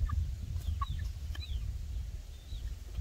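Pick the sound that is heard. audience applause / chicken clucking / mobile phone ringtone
chicken clucking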